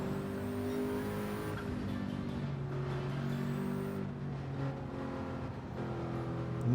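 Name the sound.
race car engine driving, Gran Turismo 7 video game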